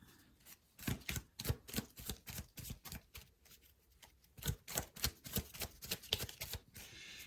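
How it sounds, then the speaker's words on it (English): Rapid bursts of card shuffling, riffled cards snapping in quick clustered runs with short pauses between, close and crisp, no talking. "while I'm shuffling these cards"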